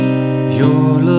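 Guitar playing the verse and transition of a song, a sustained chord ringing close and alone, then a new chord struck partway through.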